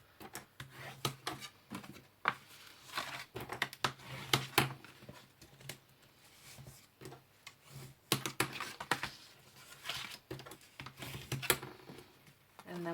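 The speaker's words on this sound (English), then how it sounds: "So you just want to fold and burnish the other one as well." 210 GSM card being folded and burnished by hand at close range, a quiet run of irregular dry rubbing, scraping and tapping strokes in bursts, with short pauses between them and no talking.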